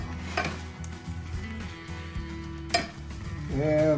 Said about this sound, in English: And we stir it up some more.